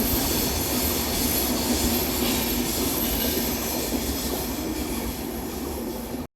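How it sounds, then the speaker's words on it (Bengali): A train passes along the railway line near the Madarihat inspection bungalow by Jaldapara National Park, a steady broad rumble with metallic wheel squeal held at constant strength throughout and cutting off at the end; no talk. "ওই দেখো ট্রেন যাচ্ছে"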